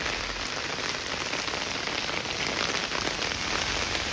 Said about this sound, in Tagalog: Ang lakas ng ulan gayon.